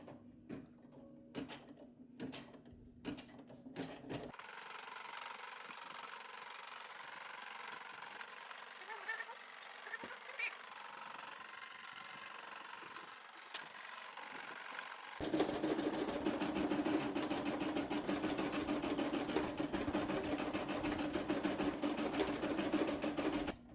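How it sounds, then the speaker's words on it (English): A Brother SE625 embroidery machine stitches a memorial patch, its steady rapid needle chatter getting louder and denser partway through after a quieter start with a few clicks. "Now that the button is green, we can go ahead and start embroidering."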